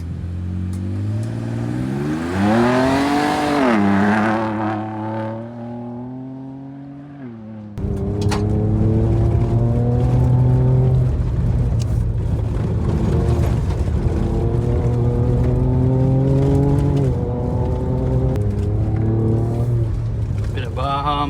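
2023 Ford Ranger Raptor off-roading in Palm Valley: the engine revs hard and its pitch climbs, drops briefly on a gear change, then pulls again in a loud, sustained roar that rises and falls in waves.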